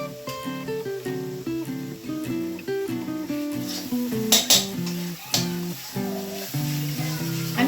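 Spices frying in a little oil on low flame for palak paneer, a soft sizzle under background music, with occasional clinks of a utensil stirring the pan.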